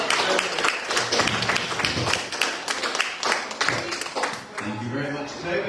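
An indoor audience at a property presentation claps for Toby in dense, sustained applause, with a few voices talking over it before the clapping thins out near the end.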